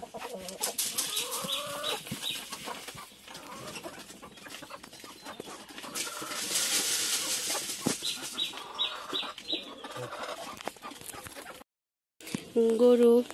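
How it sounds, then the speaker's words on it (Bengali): Village chickens cluck in bursts at close range, mixed with farmyard bustle and people talking, with a short silent gap near the end. "আবার একটা মুরগি ছুটছে রে, ধরা লাগবো, মুরগি ধরা লাগবো।"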